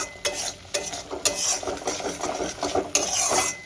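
Spice paste with ground spices and a splash of water is stirred and fried in a pan for a potato and boal fish curry. A utensil scrapes and clinks in repeated strokes over a steady soft sizzle, with no talk.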